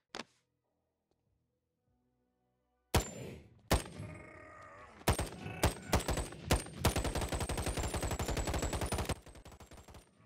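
CR-56 rifle from a Boneworks VR mod firing after a silent pause: a few separate sharp shots, then a rapid automatic burst of close, loud gunfire that cuts off into a short ringing tail.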